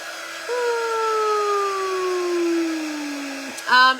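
A dryer blows a steady, sliding tone over freshly painted craft pieces, starting about half a second in and running loud and close for several seconds before cutting off, then a brief burst near the end.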